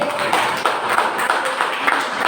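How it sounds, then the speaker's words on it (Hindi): Church congregation clapping hands for God during a Hindi worship service, a steady run of sharp claps from many people at a brisk even rhythm, moderately loud throughout with no voice on top. "बजाओ ताली हमारे परमेश्वर के लिए।"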